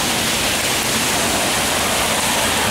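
Rainwater gushes from a roof drain pipe whose end cap has been knocked off, a loud, steady, close-up broadband rush that holds unbroken throughout.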